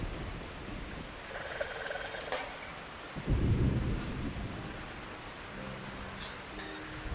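Thunder rumbles through a steady downpour in the video game Diluvian Winds, with a deep roll near the middle over continuous rain hiss and a few small chimes, and no talk.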